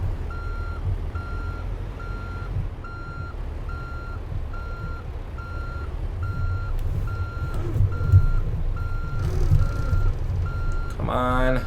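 In American Truck Simulator, a truck's reversing alarm beeps in a steady, evenly spaced rhythm over a low engine rumble for most of the stretch, with a brief air-brake hiss near the end.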